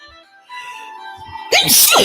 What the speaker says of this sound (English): I'm surprised I didn't have to sneeze more than that.